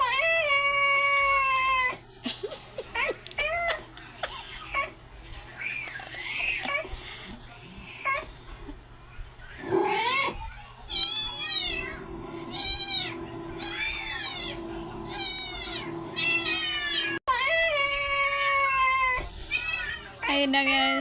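An angry pet cat yowls and caterwauls in long, rising and falling wails, loud and close, repeated throughout with short pauses, and a person talks in between.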